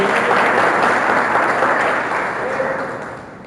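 Congregation applauding during a church service, a dense, steady wash of clapping from many hands that holds for a few seconds and slowly fades, with some voices mixed in.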